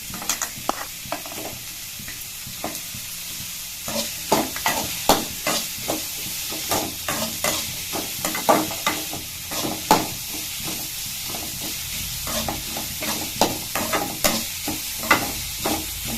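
Carrot, beans and eggplant sautéed in a pan for vegetable kozhukattai, a low sizzle under repeated rhythmic scraping strokes of a spoon that become regular and louder after the first few seconds, close by, with no speech.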